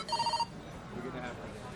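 A telephone rings in a busy police office, a short bright electronic trill of a few pulses, near and clear, followed by murmuring voices in the room.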